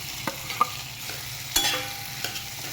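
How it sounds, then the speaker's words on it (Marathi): Finely chopped potato, sprinkled with lemon juice, sautéing in a pan as a spatula scrapes and stirs, producing a soft sizzle broken by several sharp knocks and scrapes of the utensil against the pan. "हेला चांगलं परतून घेऊ आपण बघा इथे आपली बटाट्याची भाजी पण परतून आहे"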